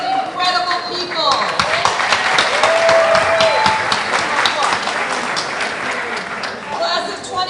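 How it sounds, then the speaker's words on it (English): Audience at an 8th grade graduation ceremony giving a loud, sustained round of applause, dense clapping that swells in the middle and then tapers. "Please join me in another round of applause recognizing these incredible people."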